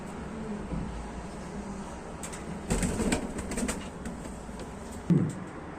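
Miro pigeons softly cooing in an enclosed breeding loft, with scattered rustles and a wing flutter over a steady background hum.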